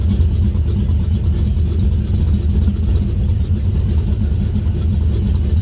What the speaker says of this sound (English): It's definitely running rich right now at idle.